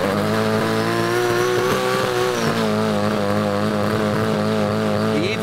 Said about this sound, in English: He even does the burnouts the way we remember them from the old days in Japan.